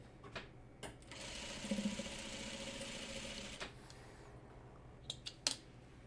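A sewing machine joins quilt block pieces in a short steady run of about two and a half seconds, moderately close, bracketed by faint clicks and handling taps before and after.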